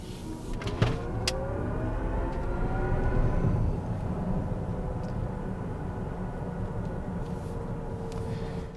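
A 2024 Chevy Blazer EV in sport mode accelerating hard, its electric motor giving a steady rising whir over road and wind noise inside the cabin, continuous throughout with no talking.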